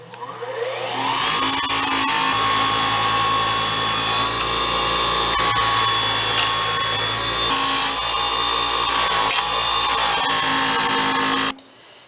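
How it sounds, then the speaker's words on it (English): Metal boba straws are polished on a buffing wheel with extra fine finishing compound, a loud continuous motor whine and grinding hiss running steadily for eleven seconds before it stops abruptly. "Last step is a polish on the wheel with some extra fine finishing compound."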